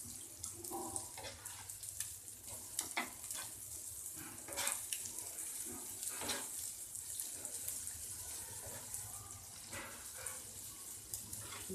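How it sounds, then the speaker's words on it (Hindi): Beaten eggs with onion cooking slowly over a low flame in a pan while being stirred gently; a steady, soft sizzle runs throughout with scattered light scraping clicks. "जब थोड़े से बबल ऊपर आने लग जाएं तो इसको आपने हिलाना है थोड़ा थोड़ा।"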